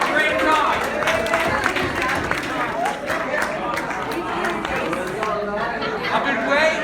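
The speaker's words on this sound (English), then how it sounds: "Paul Chesne, big round of applause." A comedy roast audience claps for performer Paul Chesne, a steady wash of scattered clapping mixed with loud crowd chatter and voices throughout, with no pause in the din.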